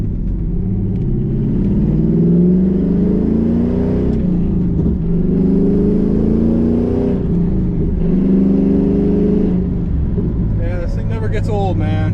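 A 2001 Trans Am with long tube headers drives along, its V8 rumbling deep and loud from inside the car, with repeated surges of acceleration and gear changes, while a voice speaks briefly at the end.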